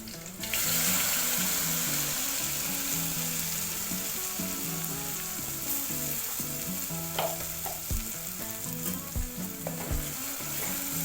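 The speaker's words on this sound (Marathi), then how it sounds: "मी थोडासा लसूण ठेचून घेतला तो टाकला नंतर कढीपत्ता आपण तो वॉशिंग घेतलेला मसाला टाकणार आहोत" Crushed garlic, curry leaves and masala fry in oil with a constant close sizzle, broken by a few spoon knocks against the pan near the end.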